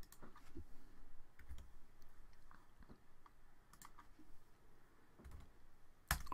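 Computer keyboard typing during a math-software graphing session: scattered soft key clicks in short irregular bursts, quiet and close, with one sharper keystroke near the end and no talking.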